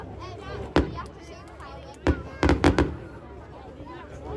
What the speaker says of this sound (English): Fireworks are huge.